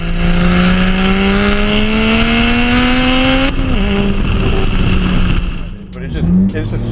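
A 600whp single-turbo N54 BMW 135i with a Vibrant Performance 3-inch side-exit exhaust revs hard and rising, a loud sustained climb that drops off near the end, with a few short blips before the clip ends.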